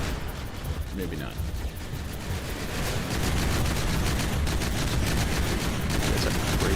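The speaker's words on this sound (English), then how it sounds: "That's a crazy rotary cannon" Rapid, dense gunfire from a rotary cannon in the naval combat game From the Depths, a continuous loud rattling stream of shots that grows heavier partway through, set against a busy background of battle noise.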